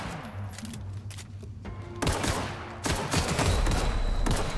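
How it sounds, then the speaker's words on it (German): Gunfire in the video game The Outer Worlds: bursts of rapid shots and thuds that grow denser and louder in the second half, with no talking. "Der hat auf mich geschossen."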